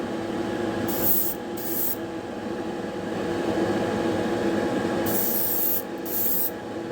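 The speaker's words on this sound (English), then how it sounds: "we're going to do the second coat on the alclad chrome" Airbrush spray applying a second coat of Alclad chrome to a custom Hot Wheels car, two short hissing bursts near the start and two more near the end over a steady background hum, with no talking.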